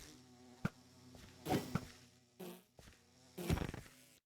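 Insect-like buzzing from bees in the game Minecraft comes in several short, uneven bursts over a low background, fairly quiet and close.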